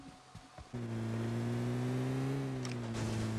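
A car engine in PUBG Mobile starts up and holds a steady, loud droning hum, pitch shifting slightly, after a few soft thumps.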